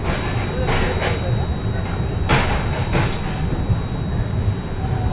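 The Vasco–Jasidih Express pulls out of Gadag station with a steady rolling rumble and rhythmic wheel clatter on the rails. Occasional brighter bursts of noise rise above it, and a voice speaks faintly underneath.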